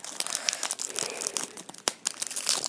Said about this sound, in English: let's just go with this little pack here. Let's see how well we can open this.